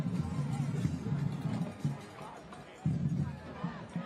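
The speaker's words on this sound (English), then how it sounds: "the Cartersville crowd now is starting to hit the bleachers, hit the aisles" Football crowd filling the bleachers and aisles at a Cartersville versus Cedartown high school state title game, a steady distant murmur of crowd noise with a louder swell near the end.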